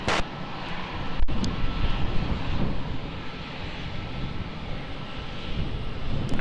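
An airliner takes off from runway 20 at Lisbon Airport, its broad jet-engine roar steady and loud from start to finish, with a brief sharp tick early on and no voices.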